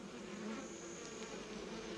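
A swarm of imported honeybees hums continuously, a dense, steady buzz with faint higher whines of individual bees passing close.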